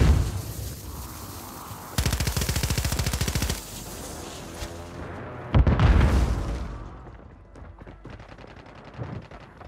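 Gunfire and blasts from a Call of Duty-style quads match, with bursts of rapid shots and a loud explosion near the middle, likely a thrown Semtex grenade going off, followed by quieter scattered shots.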